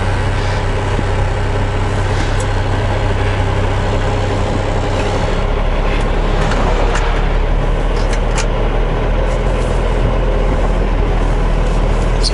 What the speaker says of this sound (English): Nice and gentle, spinning tires a little bit